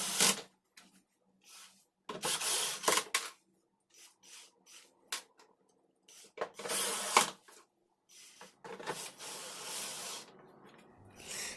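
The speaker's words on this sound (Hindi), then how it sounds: "तो अब मैं यहाँ पर सभी स्क्रू को फटाफट लगा देता हूँ" Screws being driven into the plastic back cover of an LG 32-inch LCD TV, with repeated bursts of scraping, rubbing and clicking as the parts are handled and tightened, close by with short quiet gaps between them.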